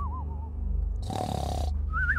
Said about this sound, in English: God, he's just snoring. He's so loud.